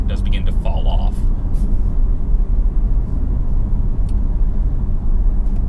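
A Jaguar E-PACE P250 AWD launches in a 0-60 acceleration run, its engine a steady, close, heavy low rumble heard from inside the cabin.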